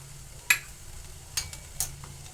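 Hadga (agathi) flower-pod vegetables being sautéed and stirred in a pan, heard as a few sparse, soft scrapes over a faint low hum, with no sizzle.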